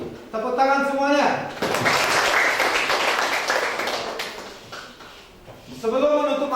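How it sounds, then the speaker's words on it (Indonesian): Classroom of students clapping together for a few seconds, a brisk broadband patter framed by a teacher speaking before and after. "Tepuk tangan semuanya."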